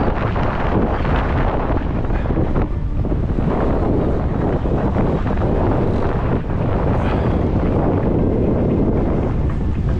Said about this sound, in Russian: что-то здесь ветер дует в спину прям.